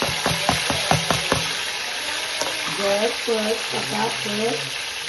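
Tomatoes frying in a pan for crab biryani make a loud, constant sizzle, first with a few sharp stirring clatters, then with voices talking over it.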